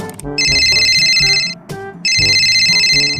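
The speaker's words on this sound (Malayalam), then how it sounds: "ഒരു പണി ചെയ്യാൻ തുടങ്ങുമ്പോൾ അപ്പ ഫോൺ വരും" A phone rings loudly with an incoming video call: a bright melodic ringtone in two bursts separated by a short gap, close and alone.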